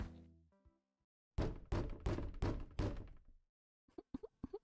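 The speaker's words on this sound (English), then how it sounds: "The loud banging on our apartment door" Loud knocking on an apartment door as a video game sound effect: a heavy burst of five hard, evenly spaced bangs after a short low tone, then a few quieter quick knocks.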